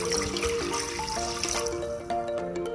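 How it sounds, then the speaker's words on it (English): Water pours steadily into a cooking pot for boiling pasta, a continuous splashing trickle running beneath louder background music, with no talk. "Add 4 glass water."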